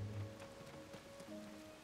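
Faint, steady rainfall in Zelda: Tears of the Kingdom, a soft even patter under a low tonal hum.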